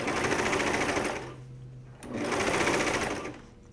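A Brother cover stitch machine runs in two steady, rapid bursts while hemming a neckband, pausing briefly between them, with a soft voice talking over it.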